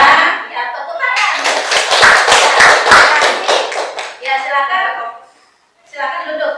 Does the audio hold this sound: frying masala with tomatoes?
no